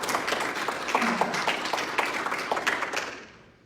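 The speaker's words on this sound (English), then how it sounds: "Let's give Jason a big round of applause." Audience applause at a South Atlantic Division change of command ceremony, a steady dense crowd clapping that holds for several seconds, then fades out at the end.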